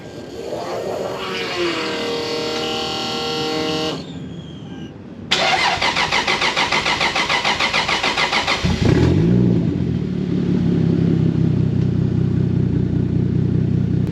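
A car engine that has sat unused for months cranks with a whirring starter, stalls briefly, then catches and roars to life, settling into a steady, rumbling idle nearby.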